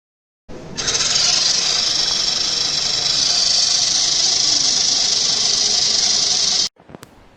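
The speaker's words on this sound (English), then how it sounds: "we see the motor starts automatically if the attention value is above 50" A wheelchair drive motor starts abruptly and runs with a steady, loud electric whir for about six seconds before cutting off, followed by a brief click and faint residual noise.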